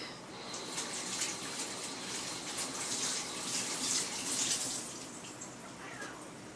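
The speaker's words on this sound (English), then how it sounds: "let me rinse my hand here real quick" A kitchen tap runs steadily as a hand is rinsed beneath it, a soft, continuous splashing gush of water with small shifts in tone and no talking.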